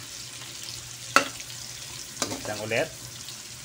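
Pork, garlic and tomato sauté in a pan for ginisang petchay, giving a soft, steady sizzle with a few spoon clinks and stirring scrapes. A person speaks briefly over the frying.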